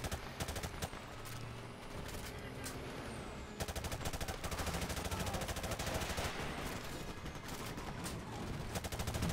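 Automatic gunfire from the Call of Duty Modern Warfare Remastered campaign rattles in rapid, sharp bursts with brief pauses, loud and close throughout, with heavier impacts mixed in.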